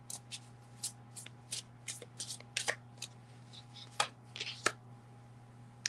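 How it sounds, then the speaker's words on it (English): A deck of cards is shuffled before a card is drawn in a tarot reading, with a series of soft, quick riffling bursts at close range over a faint steady hum. "Let me draw a card for you."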